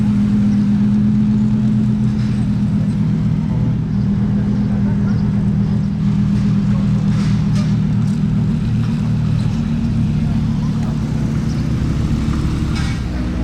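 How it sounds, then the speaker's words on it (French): A BMW M4 fitted with an Armytrix exhaust drives past in Monaco, a loud, steady engine drone with a low rumbling tone that holds throughout the clip. "c'est la M4 avec l'échappement Armitrix"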